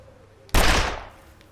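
A single loud rifle report from a hunting rifle in The Long Dark, cracking sharply and then decaying into a brief echoing tail against a quiet background.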